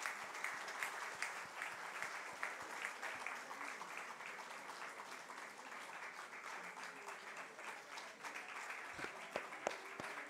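A church congregation claps steadily through the whole stretch during a Korean Baptist ordination service, a continuous, moderately distant patter of many hands with a few sharper claps standing out.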